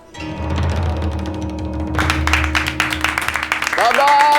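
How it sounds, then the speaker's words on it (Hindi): An audience claps and applauds at a scene from the TV series Maddam Sir, a dense patter of many hands that swells partway through and runs under loud music and a speaking voice. "बस इतनी तालियां मत बजाइए"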